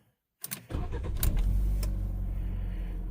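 A food delivery driver's car in the UK, its fuel pump recently troublesome, cranks briefly after near silence and catches, settling into a steady close idle with a few clicks and rattles, no voices.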